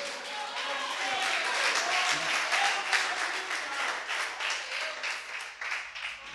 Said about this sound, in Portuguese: Alguém pode aplaudir e dar glória a Deus?